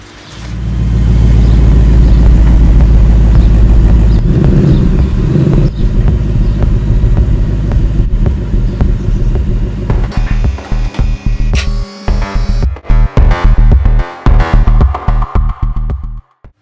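A 2019 Ford Mustang rumbles loudly into a garage, its engine droning steadily and then revving in short bursts before dropping off to near silence at the end.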